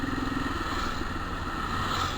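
A motorcycle with a heavy, stiff-shifting gearbox, typically held in third gear, idles and runs in a steady, close, loud engine drone with a faint mechanical whine and rattle throughout.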